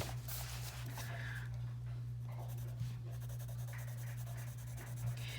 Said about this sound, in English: the worst part about using this number 2 pencil all the time for a coloring page